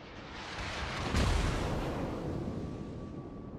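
A warship's turret guns fire in World of Warships, one heavy booming blast that swells and rolls off into a long fading rumble.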